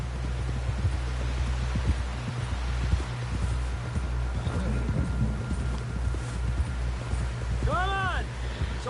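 Horse hooves clip-clop at a steady walking pace in the video game Red Dead Redemption 2, dull rhythmic thuds under a low ambient hum, with voices talking over the top.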